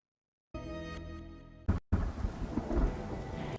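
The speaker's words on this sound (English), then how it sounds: "I just want to say I love the rain and I love the vibe of this." Steady rain with rolling thunder on a stormy map in the video game Marvel Rivals, a soft rumbling wash that drops out briefly mid-way before resuming with heavier thunder crashes and continuous rainfall.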